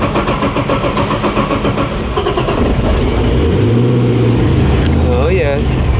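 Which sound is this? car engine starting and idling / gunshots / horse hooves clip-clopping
car engine starting and idling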